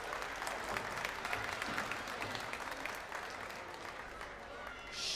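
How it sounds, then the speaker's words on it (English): Audience at a sheep shearing competition at the Balmoral Show giving a sustained round of applause, dense and steady clapping heard from within the crowd. "Give him a big round of applause."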